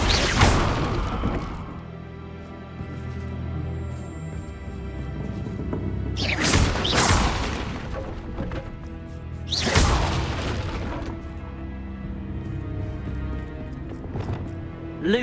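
The Bombarda blasting spell from the video game Hogwarts Legacy smashes objects in heavy booming crashes with shattering debris, three big blasts spaced over a steady ambient game backdrop.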